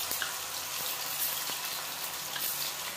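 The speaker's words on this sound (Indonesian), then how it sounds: "kalau minyaknya udah panas, kita masukkan tahunya. Kita goreng dulu tahunya." Tofu fries in hot oil, a steady close sizzle and crackle with a few faint pops, continuous throughout.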